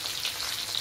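Dry bombil fish fries in a pan, a dense, even hiss of sizzling oil, close and steady through the whole short moment, with no talking.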